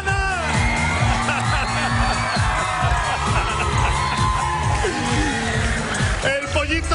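Crowd cheering, whooping and applauding loudly in a television studio as a contestant departs a reality competition show, a dense continuous roar with shouts and yells throughout.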